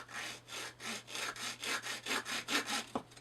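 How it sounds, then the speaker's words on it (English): A hand saw cuts a part for an RC rat rod, about a dozen even back-and-forth rasping strokes at a steady rhythm, close and moderately quiet. "So I may actually just cut this piece by hand"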